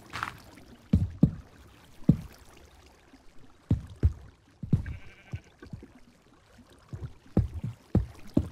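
Sheep bleating in the video game Minecraft, a few short bleats amid repeated soft game clicks and thuds, with no talk.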